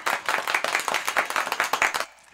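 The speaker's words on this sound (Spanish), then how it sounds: "¡Denle un aplauso!" An audience at a rural ranch show in Romita, Guanajuato claps for a girl called up on stage, a dense burst of close hand claps lasting about two seconds before cutting off.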